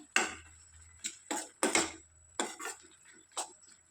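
Punarnava leaf fry being stirred in a pan, with a series of distinct scraping, clanking strokes of a spatula against metal, spaced irregularly across the clip and heard up close with no talk.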